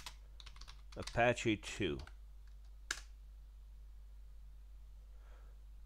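A few scattered keystrokes on a computer keyboard enter a Linux install command, brief clicks around a short spoken phrase, fairly quiet and close.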